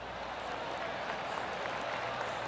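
Soft, steady smattering of polite golf applause from a gallery in the PGA Tour 2K23 video game at THE PLAYERS Championship, continuous and moderately distant with no speech.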